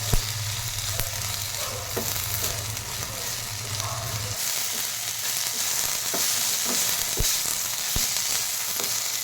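Coriander fries in a pan for peanut chutney with a dense, steady sizzle, near and fairly loud, joined by a low hum that stops midway and by a few sharp stirring clicks later on, with no talk.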